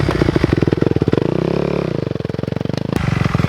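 A dirt bike engine in a backyard chugs with a rapid pulsing idle, revs up and holds a loud throbbing drone, then drops back and picks up again, very close and dominating.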